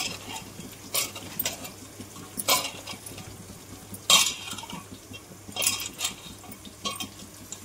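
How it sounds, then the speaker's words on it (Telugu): Chicken being mixed with fresh chili powder in a pot with oil and onion paste, giving intermittent metal spoon scrapes and clinks against the pot over a quiet low hum. "ఇలా వేసుకొని మొత్తం కలుపుకోవాలి చికెన్ని."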